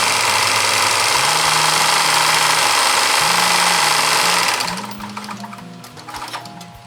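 A domestic sewing machine runs steadily at a 2.5 stitch length while topstitching, a loud continuous whirring hum that cuts off near the end, leaving quieter handling noises alone.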